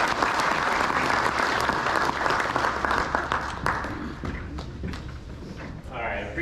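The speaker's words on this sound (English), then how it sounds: "Appreciate the warm round of applause." A warm round of audience applause at a Pro Football Hall of Fame luncheon club event, sustained clapping from a room full of people that thins out and tails off near the end, with scattered voices.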